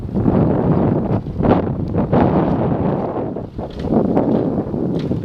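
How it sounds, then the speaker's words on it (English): Wind roars across the microphone during a bike ride in a steady, loud, buffeting rush with gusty swells and brief dips, and no voices are heard. "Hopefully the wind's in my back."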